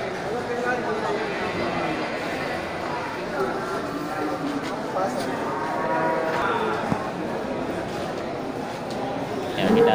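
Male Aceh water buffaloes at a busy livestock market, with lowing and moos mixed into a constant crowd murmur and nearby talk throughout.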